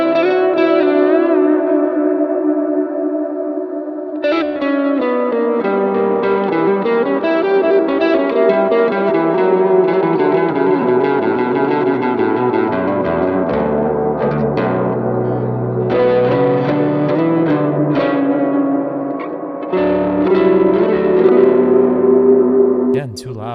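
Electric guitar through a Neural DSP Archetype Mateus Asato clean amp with reverb, playing sustained chords and ringing melodic lines, loud and continuous with a lush, spacious tail and no talking.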